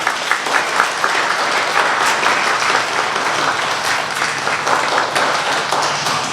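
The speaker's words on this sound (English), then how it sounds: "They deserve a really big clap as well." Sustained audience applause at a primary school award assembly, many hands clapping steadily and fairly loud for several seconds with no talk over it.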